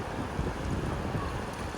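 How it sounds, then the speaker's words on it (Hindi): Steady wind gusting at a riverside in Rishikesh, a broad continuous rush with low rumble close to the microphone, no voices. "इतनी अच्छी हवा चल रही है"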